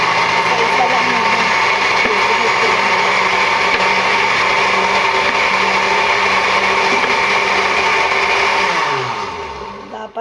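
A countertop blender whirs steadily and loudly while blending mixed fruits, a dense motor drone that holds for about nine seconds before winding down and stopping.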